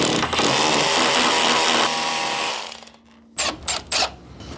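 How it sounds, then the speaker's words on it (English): A power drill bores a hole near a porch corner, running loud and steady, then winding down, followed by a few short bursts of the motor. "I'm gonna just drill a hole here to start."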